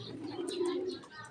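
Racing pigeons cooing as they arrive at the loft after a race from Gerona, Tarlac, a soft continuous low coo with faint chirps and background noise, close and steady.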